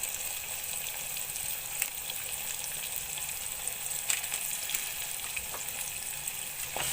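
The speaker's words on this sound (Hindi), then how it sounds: "अब इस टमाटर और सब्ज मिर्च को मैं थोड़ी देर भून लूंगी।" Steady sizzling of tomatoes and green chilies frying in a hot pan, a continuous crackle with occasional louder pops, no talking.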